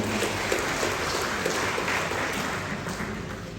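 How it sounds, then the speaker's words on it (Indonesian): An audience claps steadily at the opening of a GP Ansor regional conference in South Kalimantan, dense continuous applause filling a hall at even volume throughout. "Kita berikan aplaus."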